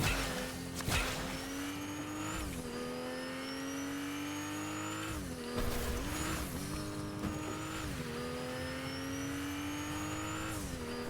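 A car in the video game Fortnite is driven hard, its engine revving up and down several times with brief tire squeals, loud and close throughout.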